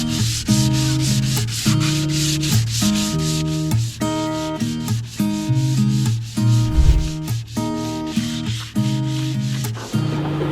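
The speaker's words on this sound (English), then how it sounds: "I'm just going to give it a light sand." Light hand sanding with 180 grit sandpaper, repeated rhythmic back-and-forth rasping strokes, steady and close, with no talking.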